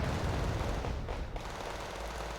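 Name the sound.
gunfire in the video game Wargame Red Dragon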